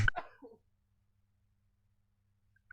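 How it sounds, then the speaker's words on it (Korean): A single short cough bursts out at the very start during a Korean talk about rental deposits, then the room falls almost silent with only a faint low hum. "갑자기 기침 나가지고"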